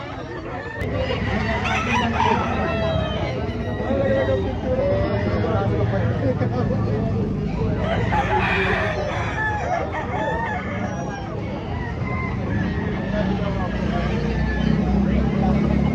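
Fighting roosters crow repeatedly and hens cluck nearby at a gamecock sale in Lipa City, with people talking in the background throughout.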